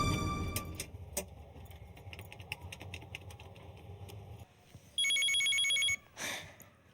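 An office desk telephone rings in a bright electronic burst partway through, after a stretch of clattering keys and typing-like clicks, with a short trailing chirp at the end.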